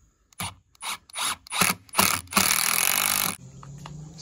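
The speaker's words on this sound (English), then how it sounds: "I'm screwing these in on a slight angle just to take up the difference" Screws are driven at a slight angle into the wood framing of a mobile chicken coop. The power driver gives a series of short ratcheting bursts that build into one longer whirring run, close and clear, with no talking.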